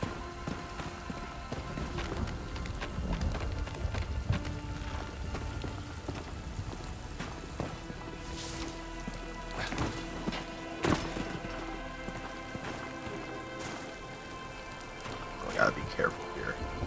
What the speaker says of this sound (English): Just like it's raining right now.